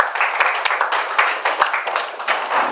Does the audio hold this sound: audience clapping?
yes